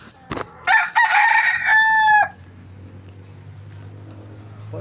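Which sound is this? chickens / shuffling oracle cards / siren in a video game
chickens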